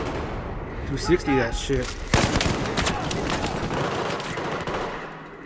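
Light machine gun (MG4) fire in a Battlefield 4 Rush match on Operation Locker, loud sustained bursts of rapid gunfire mixed with other shots, someone talking over it.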